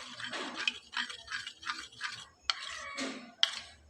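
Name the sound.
stirring the batter in a bowl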